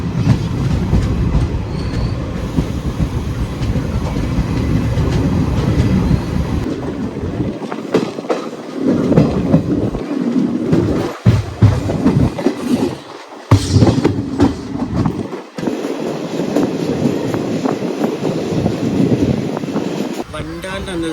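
A Mangaluru special passenger train rolls along the rails between Vijayapura and Hubli, a loud steady rumble with clattering wheels, some squeal and wind, easing off and picking back up. A voice talks over part of it.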